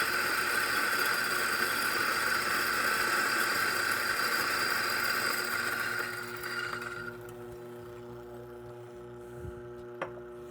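A Eureka Mignon Zero coffee grinder grinds slow-fed espresso beans with a steady, fairly loud whirring hum that cuts out after about seven seconds, leaving a faint motor tone and a couple of small knocks.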